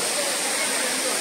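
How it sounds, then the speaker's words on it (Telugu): Talakona waterfall, a dense, loud, steady roar of rushing water filling the whole moment without a break. "సో ఇంకా ఫైనల్ గా వాటర్ ఫాల్స్ దగ్గర అయితే వచ్చేసాం"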